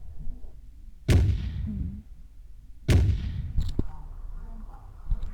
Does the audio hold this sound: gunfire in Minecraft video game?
yes